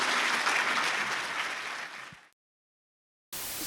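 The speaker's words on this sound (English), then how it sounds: "Round of applause for Jennifer." An audience at a DevOpsDays conference in Portland applauds steadily after a talk, the clapping fading out, then a short silence before another burst begins.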